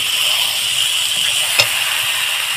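Fish head curry made with bhetki sizzles and bubbles in the pan as hot water goes in, a steady close hiss with a brief clink partway through.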